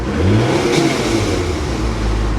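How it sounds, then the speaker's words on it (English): A car engine at an auction yard revs up loudly and close, one sustained rising pull followed by a steady high-rpm drone. The car shows brake, airbag, service engine and tire-pressure warning lights. "She revs."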